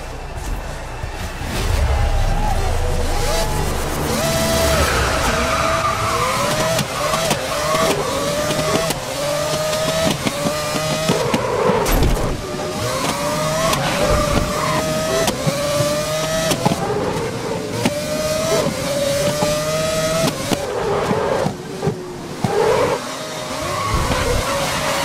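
Race cars launching at the start of a race in the video game Grid 2019, a pack of engines revving hard and rising through gears with tire squeal, loud and continuous.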